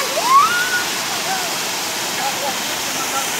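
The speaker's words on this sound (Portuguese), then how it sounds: "eu nunca tinha vindo numa cachoeira antes" Rushing water from the Capinzal waterfall roars as a steady, even wash of noise nearby, with a brief faint voice near the start.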